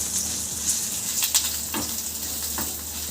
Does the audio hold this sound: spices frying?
yes